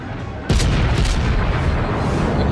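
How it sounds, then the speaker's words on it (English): Main battery guns of the Amagi battleship in World of Warships fire in one sudden heavy boom at sea, followed by a loud, sustained rumbling roar that fills the rest of the moment with no talking. "the moment I open fire, he's gone"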